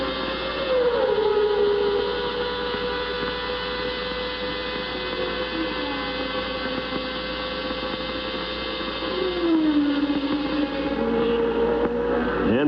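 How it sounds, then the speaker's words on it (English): High-revving V10 engine of a 1990 Formula 1 car at the Mexican Grand Prix at Hermanos Rodríguez, a sustained tonal howl rising and dipping through gear changes under a constant broadcast hum, distant and fairly faint. "Now listen to this car as it gets onto the front straight, climbs to high RPM and stays there."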